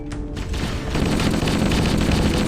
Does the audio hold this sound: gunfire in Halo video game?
yes